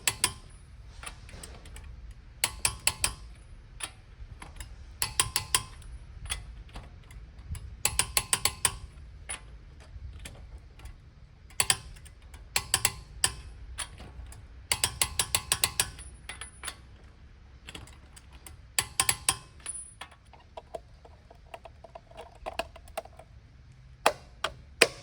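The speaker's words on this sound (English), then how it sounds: "we're going to go ahead and torque these down" Ratcheting clicks from a torque wrench snugging lug nuts to 85 foot-pounds on a 2004 Toyota 4Runner, coming in repeated short bursts of crisp mechanical ticks with brief pauses between each nut.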